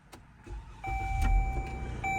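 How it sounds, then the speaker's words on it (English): A Dodge Journey's engine starts from the push-button ignition with the key fob held against the button: a brief whir, then a steady low rumble and a thin electrical whine, close by, with no talking. "As you can see, the car is started now"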